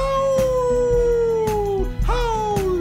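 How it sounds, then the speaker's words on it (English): A dog in a live-action children's show howls in long, drawn-out rising and falling tones, loud and sustained over steady background music. "howl, howl."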